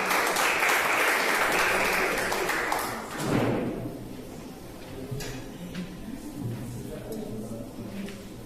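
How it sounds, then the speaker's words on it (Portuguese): A church congregation applauding, a broad wash of clapping that swells for about three seconds, then breaks into scattered, thinning claps and light taps. "Aplaudam a Jesus."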